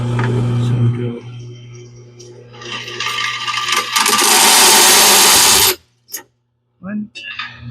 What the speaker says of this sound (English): So what I'm gonna do is drill from both sides.